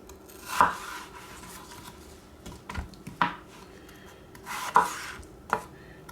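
A knife cuts apples into wedges on a board with about five sharp, separate chops at irregular spacing, each followed by a brief scrape, and no one talks.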